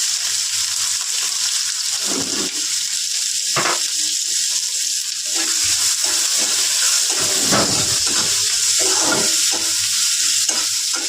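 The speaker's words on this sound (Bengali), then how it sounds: "পেঁয়াজটা একটু হালকা ভেজে নিতে হয়" Onion fries lightly in hot oil with cumin seeds in a pan for a fish curry with cauliflower, a loud, steady sizzle broken by a few stirring scrapes and clinks, close up and free of speech.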